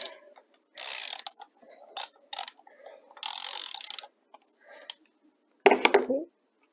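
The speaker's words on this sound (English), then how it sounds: "and then you've got your ratchet" A ratchet clicks in short bursts while loosening the oil drain bolt on a Kawasaki Z900 motorcycle, close and crisp with pauses between strokes, ending with a brief clunk.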